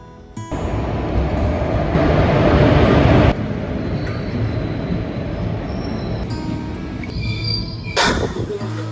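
A passenger train, the 22301 Vande Bharat from Kolkata toward Sikkim, rumbles along as heard from inside a general compartment with an open door, a loud continuous roar with a surge early on, then steadier clatter and faint squeals near the end.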